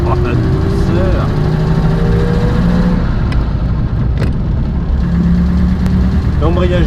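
A 1939 Buick Special's engine pulls away from a stop, a steady low rumble rising slightly in pitch as the car moves off, close and continuous.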